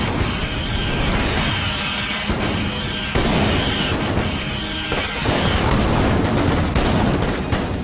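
Ice blocks exploding amid steady gunfire in the game Enter the Gungeon, a dense loud barrage of rapid shots and bursts with sharp blasts standing out over a continuous noisy wash.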